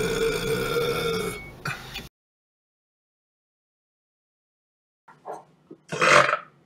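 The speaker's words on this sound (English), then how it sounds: "That was a burp." A man burps loudly, a long rumbling belch followed by a short second one, then after a silent gap a few brief voiced bursts and a louder final burp.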